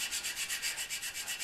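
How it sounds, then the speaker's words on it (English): A guitar nut rubbed back and forth on 220-grit sandpaper laid flat on a precision-ground bandsaw table, giving a steady, close scratchy rasp in even repeating strokes, about eight passes, with no talking. "I take a piece of sandpaper and I put it on the table of my bandsaw"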